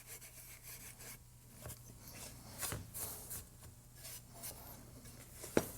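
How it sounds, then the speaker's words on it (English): A Scotch-Brite pad scrubs the inside of a Corvette C5/C6 front lower control arm bushing bore, giving quiet, irregular rubbing and rasping strokes up close with no talk over it. "I'll take a little Scotch-Brite. Just clean it up inside there."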